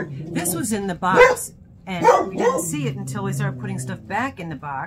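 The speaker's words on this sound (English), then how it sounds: "we have barking in the background" A dog barks in the background at home as a mail carrier arrives, several excited barks and yips scattered under close, continuous conversation.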